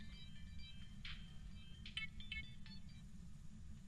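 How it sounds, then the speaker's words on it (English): A phone rings with an incoming call, a faint melodic ringtone of short tonal notes, soft and a little distant over a low background rumble. "That's the phone."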